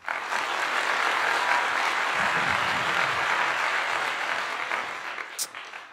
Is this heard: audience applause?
yes